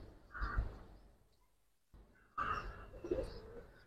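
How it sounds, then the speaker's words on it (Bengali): A male Giribaz pigeon coos with its mate nearby, giving two soft, close bursts of cooing separated by a brief quiet pause. "দেখেন কি সুন্দর কবুতর"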